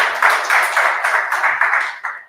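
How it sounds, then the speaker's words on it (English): Audience at a PNM political town-square meeting in Chaguanas applauding a senior counsel, a steady wash of many hands clapping near and loud, continuing without pause through the stretch. "please give him a round of applause for the work that he has been doing"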